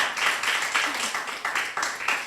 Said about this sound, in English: Please clap for her.